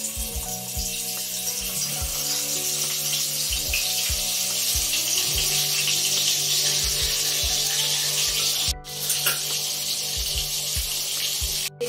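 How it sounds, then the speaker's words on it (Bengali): Fish pieces frying in hot mustard oil, a steady loud sizzle with repeated low thumps and scrapes of handling in the pan, no voices. "এখন দেখুন তেলটা গরম হয়ে গেছে। এখন মাছগুলো আমি একটা একটা করে ছেড়ে দিচ্ছি।"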